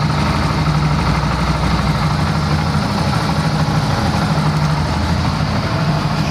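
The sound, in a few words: Bajaj CT 100 motorcycle engine idling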